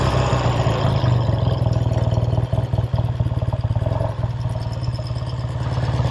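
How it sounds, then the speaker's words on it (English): A 1969 Triumph Daytona 500cc air-cooled parallel-twin motorcycle engine idles steadily nearby with a low, even, pulsing rumble and some mechanical clatter, no voices. "Very good sounding parallel twin, 500cc air cooled unit motor."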